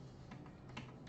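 Quick, soft clicks of a computer keyboard being typed on while coding, a few keystrokes in a short close burst over faint background hum.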